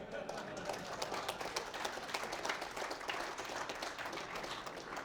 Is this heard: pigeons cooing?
no